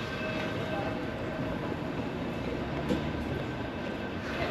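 Steady rumble of a San Francisco tram in motion, heard from onboard, with continuous rolling and rail noise at moderate level and no clear talk.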